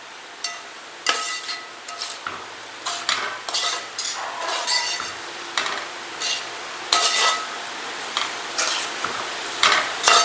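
Beef curry with onions being stirred in a pan, a steady run of scraping, clacking spoon strokes about once a second over a soft sizzle, close and fairly loud, with no talking.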